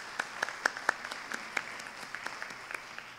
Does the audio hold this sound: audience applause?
yes